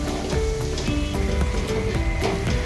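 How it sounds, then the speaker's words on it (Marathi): Paneer cubes sizzle as they are gently sautéed in a pan for matar paneer biryani. The frying hiss is steady and close, with soft stirring scrapes and no voices. "आता यात मी हे पनीरचे क्यूब सोडते आणि हलक्या हाताने ह्याला मी परतून घेते।"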